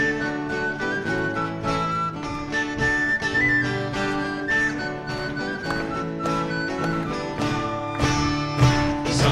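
A whistle is played live at a folk concert in a hall, its melody carried over a full band accompaniment with a steady rhythm, loud and close for the whole passage.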